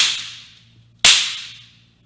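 Two sharp gunshot cracks about a second apart, each a loud close bang with a hissing tail that fades quickly, heard alone in a comedy show with no talking over them.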